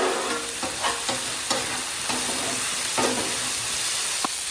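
Butter and garlic sizzle steadily on a Blackstone griddle turned down low, a dense continuous frying hiss with a few soft scraping stirs spaced through it, close and fairly loud, no voices.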